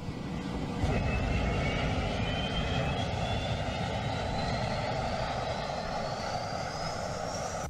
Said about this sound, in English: This jet turned into a flamethrower while starting up.